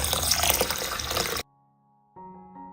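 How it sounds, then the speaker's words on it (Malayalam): Water is poured over raw rice set to soak, a short gushing pour that cuts off abruptly, followed by a quiet pause and a faint tonal hum. "അതിന് വേണ്ടിയിട്ട് കുറച്ച് വെള്ളം ഒഴിച്ച് വെക്കാം."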